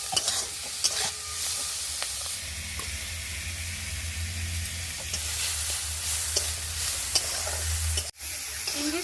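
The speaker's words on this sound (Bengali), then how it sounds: "নাড়িয়ে নিচ্ছি।" Prawns being stirred with spice paste in a frying pan while making a potol and prawn dish, a steady sizzle and hiss of frying with scraping stir strokes running throughout, close and fairly loud, with one brief sharp knock near the end.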